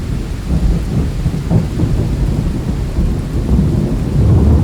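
Heavy rain pours steadily while low thunder rumbles continuously underneath, rising near the end, all from the Thor thunderstorm soundscape in the NatureSpace app; no one speaks.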